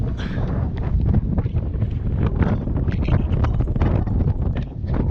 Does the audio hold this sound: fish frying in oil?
no